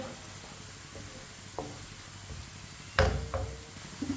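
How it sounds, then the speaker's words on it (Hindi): Onions fry gently in a pan over medium heat, a soft low sizzle broken by a few spoon knocks and scrapes, the loudest clatter near the end, with no one speaking. "प्याज को हल्का सा ब्राउन कर लेना है।"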